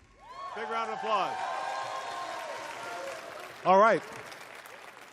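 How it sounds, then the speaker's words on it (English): Audience applause at The Game Awards 2014 ceremony: a steady wash of clapping from a large crowd runs throughout, with a host's voice talking over it and a brief louder vocal burst near the end. "Big round of applause."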